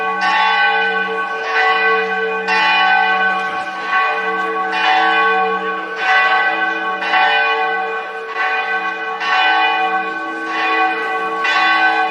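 Church bells peal loudly and close in a steady repeating rhythm, rich ringing tones overlapping and sustaining with no voices.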